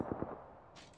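Gunfire in Apex Legends, a couple of short, muffled shots at the start that trail off into quiet game sounds.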